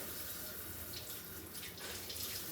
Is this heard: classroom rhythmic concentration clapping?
no